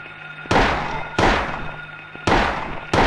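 Four sharp gunshots from a handgun in the Silent Hill video game ring out about every 0.6 to 0.7 seconds, loud and close, each with a short decaying tail and no talking over them.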